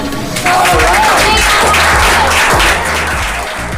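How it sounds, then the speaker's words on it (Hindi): Applause from an audience at a monthly rewards and recognition ceremony, dense and steady throughout, swelling after the first half-second and tapering slightly near the end, with a voice talking faintly underneath. "आप लोग के लिए ज़्यादा तालियां बजा रहे हैं"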